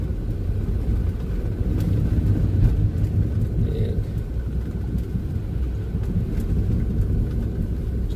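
A car driving along railroad tracks inside a wet tunnel, a continuous loud low rumble with steady road roar throughout, no talk.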